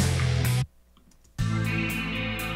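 Distorted sludge metal guitar chords ring out with a hall reverb effect: one sustained chord cuts off, a brief near-silent gap follows, then a new loud, heavy chord rings on.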